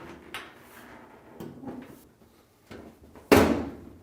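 Plastic and metal clunks from a GE dryer top being pressed down and locked into the console tabs, with a few soft knocks followed by one loud, sharp snap near the end.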